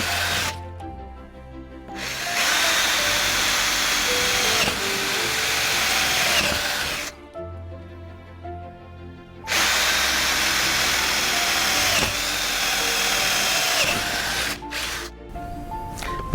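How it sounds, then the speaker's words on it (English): A power drill whines loudly in three long bursts, revving and straining as it bores a 5/16 or 1/4 inch hole through a door, with brief quiet pauses between runs. "drill a 5/16 or a 1/4 inch hole"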